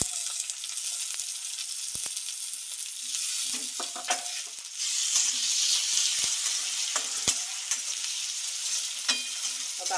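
Tomatoes frying and sizzling in a pan for brinjal bharta, a steady bright hiss with occasional clicks and stirring scrapes, growing slightly louder midway, no talking.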